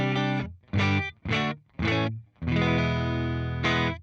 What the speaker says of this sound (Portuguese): Vem aqui, liga e nós devemos ter aqui um som de Fender bem limpinho.